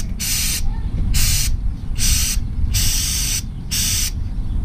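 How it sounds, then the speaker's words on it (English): Chain cleaner sprays over a motorcycle chain in five sharp, close aerosol bursts with brief silences between them. "So you wanna spray the whole chain first."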